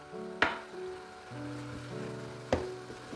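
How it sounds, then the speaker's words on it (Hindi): Carrot halwa mixed with crumbled barfi is stirred in a pan, a soft low scraping and sizzling texture punctuated by two sharp clicks of the spoon against the pan. "और इसको मैं मिक्स कर दूँगी।"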